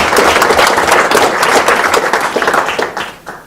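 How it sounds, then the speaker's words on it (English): Audience applause at a sports officials' association banquet, a steady dense wash of many hands clapping close by that tapers off near the end, no talk over it. "A nice little round of applause for them for the great dinner"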